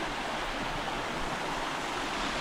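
A rocky woodland creek flows with a steady, close rush of water, a continuous broadband wash with no voices.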